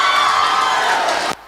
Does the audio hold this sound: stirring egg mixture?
no